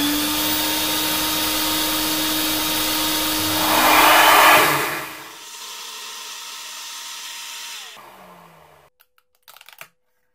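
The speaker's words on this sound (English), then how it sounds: "I can bolt on this adapter for the vacuum I'm using, and with that in place, it's ready for work" Vacuum cleaner attached to a homemade vacuum former roars steadily with a loud hiss that swells midway, then drops to a lower hum and cuts off, followed by a few brief clicks.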